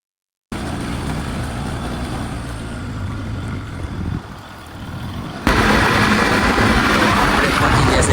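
A motorbike rides along a road toward a factory, giving a steady broadband engine and road rumble that dips briefly and then turns louder and rougher for the last few seconds.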